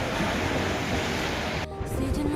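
Sea waves washing against a rocky coast near the Haeoreum observatory north of Chilpo beach, a continuous loud broadband surf wash mixed with wind noise, briefly dipping near the end.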